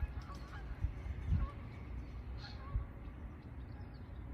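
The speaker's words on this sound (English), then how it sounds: "They're taking off now in one of their V formations." A flock of geese honks at a distance as the birds take off together in V formation, with a few scattered calls rising over a steady low rumble of background noise.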